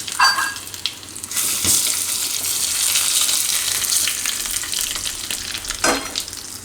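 Hot oil sizzles loudly and steadily as whole spices and curry leaves hit the pan for tempering, with a couple of brief clinks of a utensil and no voices.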